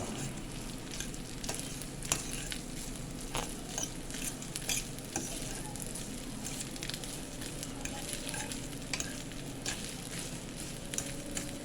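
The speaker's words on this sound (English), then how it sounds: "So we're going to stir in the rice and the palm oil, get that juicied up." Rice and palm oil being stirred in a pot for a vegan West African rice dish, producing a continuous soft sizzle and patter with faint utensil scrapes, steady and close.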